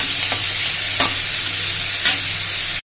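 Chopped tomatoes tipped into frying onions hiss loudly in a hot pan, a dense close sizzle with a few sharp stirring scrapes, then an abrupt cut to silence.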